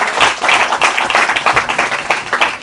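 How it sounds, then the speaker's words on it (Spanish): A church congregation claps for the Lord after a sermon, a dense burst of many hands with uneven rhythmic surges, close and loud, lasting a few seconds. "Dale un fuerte aplauso al Señor por su palabra"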